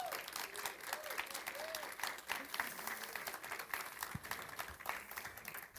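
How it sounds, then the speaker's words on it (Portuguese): Applause from a church congregation rings out at a Brazilian testimony gathering, a moderately distant, reverberant clapping with scattered sharper claps and faint voices mixed underneath. "Palmas para Carol, gente."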